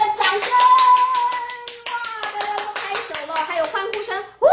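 Quick, evenly spaced hand claps pop over a lively storytelling voice, imitating a burst of applause.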